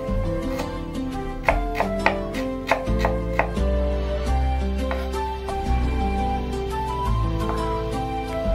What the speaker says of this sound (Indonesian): Lanjut kita potong-potong bumbunya ya. Di sini ada 4 siung bawang putih. Kemudian ada 6 siung bawang merah.